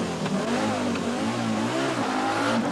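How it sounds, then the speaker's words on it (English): Rally car engines rev hard and accelerate away at the start of a special stage of the 1984 Sanyo Rally in New Zealand. The engine note is loud, continuous and close, rising and falling in pitch across the whole stretch, with no talk. "The cars start at 1-minute intervals."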